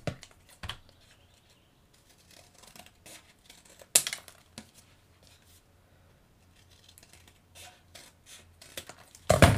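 Scissors cutting a Z-folded paper card template, close and quiet, with scattered snips and rustles spread across the stretch and a few louder crisp cuts standing out.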